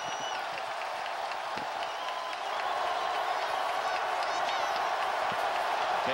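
Stadium crowd at a college football game between Georgia Tech and Clemson, a dense, steady roar that swells slightly partway through. A commentator talks over it.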